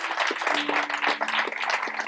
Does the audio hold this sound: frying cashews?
no